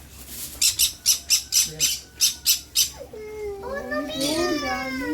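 Farm birds squawk in a quick run of about nine loud, sharp calls over the first three seconds, followed by someone talking and chattering voices nearby.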